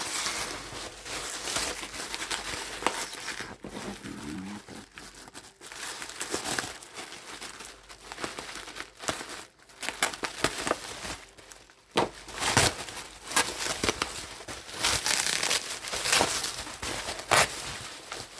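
Crinkly plastic packaging of an AliExpress anime figure crackles and rustles close by for the whole stretch, in irregular bursts of handling with brief pauses, loudest toward the end.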